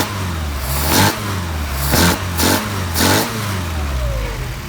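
A Mercedes 190SL engine with Solex carburetors idles steadily while the throttle is blipped four times, each rev rising sharply and falling back, loud and close.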